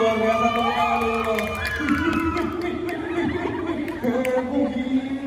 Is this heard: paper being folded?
no